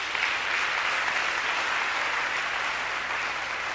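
A church congregation applauds in a steady, dense wave of clapping that holds at an even level throughout, with no pauses or talk over it.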